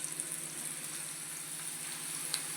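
Meal maker (soya chunk) pakodi frying in hot oil over a medium flame, a steady, fairly quiet bubbling sizzle with faint crackles, heard alone without talk.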